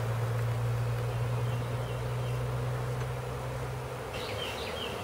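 A swarm of bees hums steadily around a hive box after being caught out of a house, a dense continuous drone close by with no talking.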